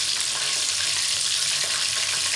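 Jollibee-style fried chicken sizzles in hot oil, a loud, continuous crackling hiss with no pauses and no voices.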